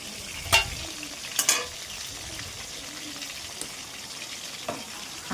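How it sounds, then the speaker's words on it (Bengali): Fish fries in a pan while rice cooks nearby, with a soft continuous sizzle broken by a few sharp utensil clinks, close and without talk. "আর দেখো এই মাছটা ভেজে নিচ্ছি।"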